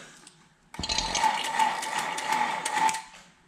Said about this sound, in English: So we'll turn on the vacuum pump here now.